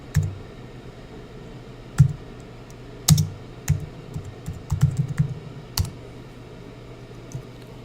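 Keys are typed on a computer keyboard in scattered clicks and short irregular bursts, close and fairly quiet over a low steady hum, with no voices.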